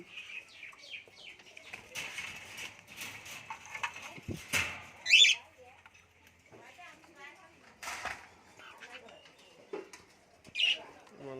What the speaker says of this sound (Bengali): পাখি এটার ভিতরে ককাটেল আছে